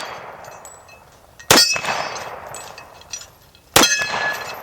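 Two sharp metallic clangs from bullets striking a steel target, fired from a Citadel 1911 in .45 ACP, spaced about two seconds apart. Each strike rings briefly and stands out against quiet outdoor background.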